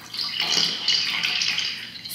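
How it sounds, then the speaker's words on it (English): Water is picked up by a contact microphone placed in a small amount of water, giving a close, hissy, bubbling wash that keeps going for about two seconds, with soft watery surges. "There's a little water in here, and I want you to put your microphone in the water."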